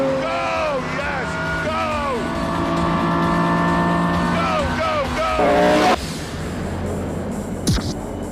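Car engine roaring at full throttle with rising and falling revs through gear changes, loud and close, under excited shouting, ending in a sudden cutoff and a sharp noise.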